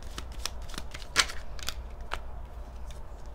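Tarot cards riffled and handled in a quiet room, a few soft scattered flicks and one sharper snap near the middle, faint and close with no voices.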